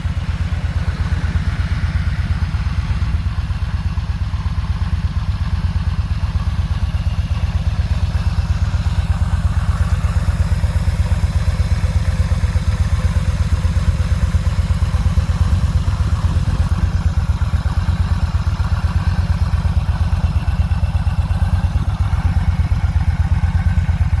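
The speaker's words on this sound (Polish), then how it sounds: "piękna, równa praca tego silnika" A 2014 Yamaha Midnight Star 950 cruiser motorcycle idles steadily and evenly, its low, continuous engine rumble loud and close throughout with no talk over it.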